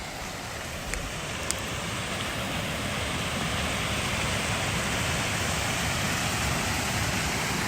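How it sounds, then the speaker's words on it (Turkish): Heavy rain pours outdoors as a dense, continuous, even hiss that stays loud and unbroken throughout, with no voices. "Şakır şakır yağıyor maşallah."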